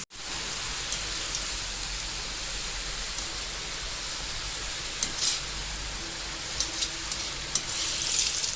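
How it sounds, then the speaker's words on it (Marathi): Jeera shankarpali, salted cumin pastry pieces, frying in hot oil over medium-low heat, giving a steady dense sizzle and crackle that runs close and loud throughout with no talking. "आता सर्व खाऱ्या शंकरपाळ्या जिरा शंकरपाळी तळून घेते मी आता"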